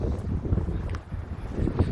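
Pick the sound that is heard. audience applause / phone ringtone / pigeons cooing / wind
wind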